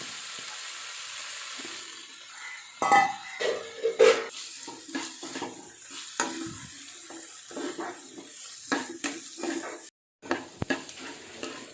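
Onions and curry leaves frying in a pan while being stirred for palak curry, soft continuous sizzling with intermittent scraping clatters of a spoon against the pan.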